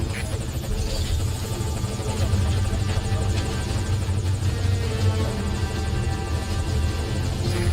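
A helicopter arrives at a landing zone in Metal Gear Solid V: Ground Zeroes, its rotor chop and engine roar a steady, loud, dense drone throughout.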